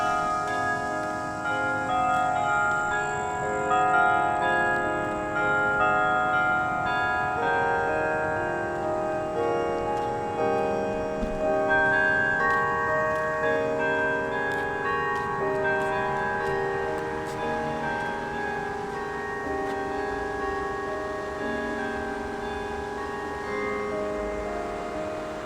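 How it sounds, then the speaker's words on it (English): Church bells ring continuously near Dave Thomas's grave and memorial site, their overlapping tones forming a dense, sustained peal that carries steadily and fairly loud throughout, with no talking. "You can hear the church bells ringing"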